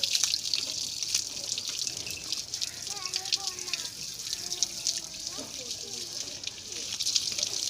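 Water poured and splashing as a buffalo is bathed while it stands eating fodder at a trough in hot weather, a steady trickling wash with light hiss and some faint voices in the background.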